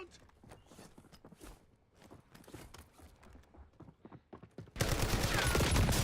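Gunfire in a first-person shooter video game: muffled footsteps and scattered thuds, then a sudden dense, loud, continuous burst of shots that fills the final second.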